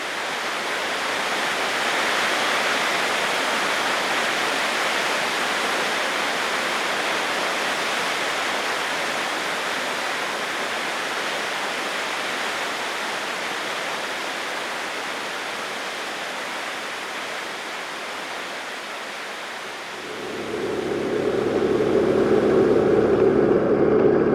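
Cold stream water rushing over rocks along a Huron Mountain trail, a loud steady broadband roar that shifts near the end to a lower, rumbling tone.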